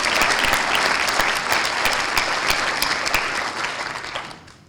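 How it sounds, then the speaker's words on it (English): A breakfast crowd at Hamilton's 17Strong celebration applauds Kathy Klink, brisk close claps ringing out strongly before the ovation thins and fades away at the end. "One more applause for Kathy Klink, please."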